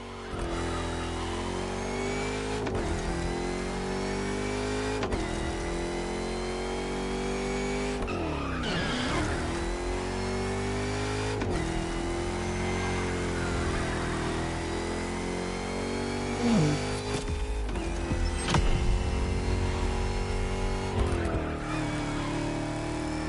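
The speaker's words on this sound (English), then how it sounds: "As for the car, you're going to partner with quite a celebrity, a Ferrari 308 GTS." A Ferrari 308 GTS revs and shifts through gears in The Crew Motorfest, its engine note rising and falling with repeated tire squeals and skids, loud and continuous throughout.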